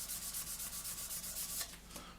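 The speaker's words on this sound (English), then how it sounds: "take out any little scratches and things being made by the sanding stick itself" Sanding stick rubbing back and forth over the nose of a 1/48 Italeri Seahawk plastic model kit, a close, steady scratchy rasp in quick even strokes that eases off near the end.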